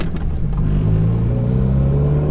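Car engine pulling steadily in third gear at low revs, just over 2,000 RPM and around 20 mph, a loud continuous droning rumble with a slowly rising pitch and no talk.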